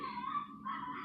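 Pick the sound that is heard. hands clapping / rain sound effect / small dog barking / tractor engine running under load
small dog barking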